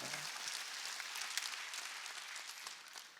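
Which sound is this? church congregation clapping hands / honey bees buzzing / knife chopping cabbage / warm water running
church congregation clapping hands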